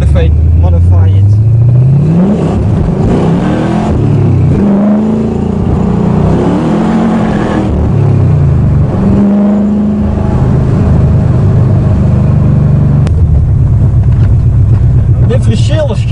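Modified 1973 Ford Capri fitted with a 5.0 V8 engine, driving with a loud, steady engine drone and rising revs on acceleration, with voices talking throughout over the engine.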